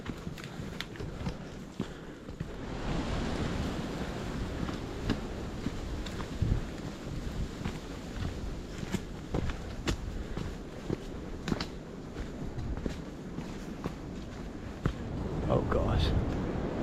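Strong gusting wind buffets the microphone on the exposed Grandfather Mountain ridge, a loud, continuous rumbling roar with occasional crunching footsteps on the trail.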